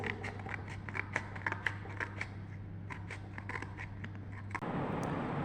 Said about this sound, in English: cut the card along the thick dark lines